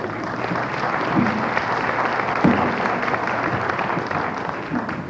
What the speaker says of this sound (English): So it's okay, you can clap.